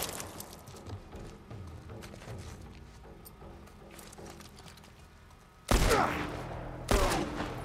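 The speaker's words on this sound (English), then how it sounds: "Guys, I heard gunshots." Muffled rumbling and distant pops give way to two sudden loud bursts of gunfire in the video game The Last of Us Part 1, each followed by a sustained roar.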